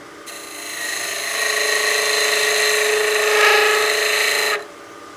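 A skew chisel makes a slicing cut on wood spinning on a lathe while a bat house ornament is turned, giving a sustained humming, rasping whine for about four seconds that starts and stops abruptly, close and loud, with no talk.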